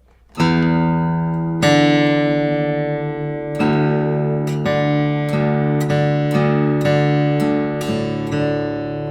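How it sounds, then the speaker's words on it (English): Two guitar strings ring together over and over, the sixth string sliding down in pitch until it matches D in a steady drone; plucked repeatedly, loud and close. "I'm gonna play both strings simultaneously, and I'm gonna lower the 6th string."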